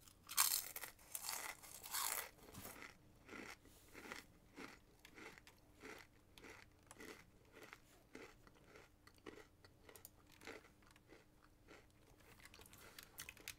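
A pet crunches dry food from a feeder silo, with steady, quiet, close crunching and chewing bites repeating about every half second, louder at the start.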